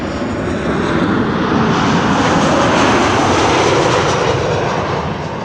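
A Boeing 747 jet airliner lands at Amsterdam Schiphol, its engines roaring loud and steady from start to finish as a broad, continuous rumble with no voices over it.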